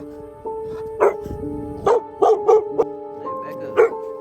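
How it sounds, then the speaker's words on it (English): Several dogs bark in short, loud bursts with yips mixed in, close by and scattered across the clip, over a steady tonal game-music backdrop. "And now here come the dogs"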